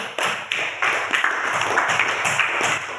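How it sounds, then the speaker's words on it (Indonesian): Classroom applause for a student: a dense patter of many hands clapping together, steady and fairly close, lasting throughout with a few sharper individual claps. "tepuk tangan untuk Putri."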